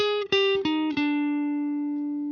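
A clean electric guitar, close-miked on the amp cabinet, plays a few plucked notes that ring out and sustain, heard up close and dry with no room echo.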